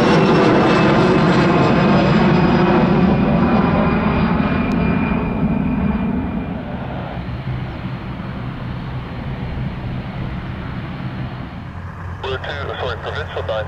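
Fixed-wing plane departing from runway 24 at Moncton airport, its engine roar loud and sustained before easing off as it climbs away, with a voice on radio chatter underneath.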